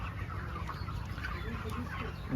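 Broiler chickens cluck continuously inside a crowded poultry house, a dense overlapping chorus of many birds at moderate loudness with no talking over it.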